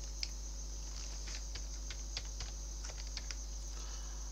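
Keys tapped on a computer keyboard while a root password is entered in Kali Linux, a quiet run of light, irregular clicks close to the mic over a steady electrical hum, with no talking.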